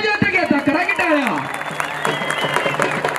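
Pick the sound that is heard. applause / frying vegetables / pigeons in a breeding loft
applause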